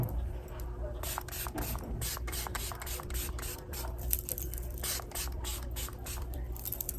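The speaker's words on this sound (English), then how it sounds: "now I'm just going with another layer of the setting spray and then dry it" Setting spray misted onto a face, a series of short sharp hissing spritzes in quick succession over a low background hum, close to the microphone.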